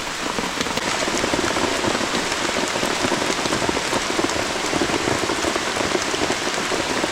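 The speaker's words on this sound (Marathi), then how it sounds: "पाऊस बघा अजून कंटिन्यू चालू आहे बघा" Continuous rain falls on a stream bank during a fishing trip, an even, close hiss of drops on surfaces with no voices.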